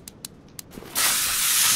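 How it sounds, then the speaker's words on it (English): A few soft clicks, then a sudden steady hiss of spray oil, like WD-40, being sprayed onto a stuck bolt in the Car Mechanic Simulator 2021 video game, loud and close until the end. "And I see it's going to spray oil on the boat. Like WD-40."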